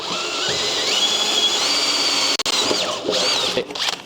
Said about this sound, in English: So I'm just putting the holes here in the rear cross member